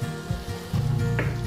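Garlic hitting a butter-coated pan already holding onions and the browned residue of seared salmon, giving a brief, soft, steady sizzle that thickens slightly partway through.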